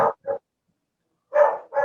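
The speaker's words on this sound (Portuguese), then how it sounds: "Alguém desliga o áudio aí que eu estou ouvindo um au-au latindo." A dog barks in short bursts, two quick barks, a pause, then two more, heard clearly and alone.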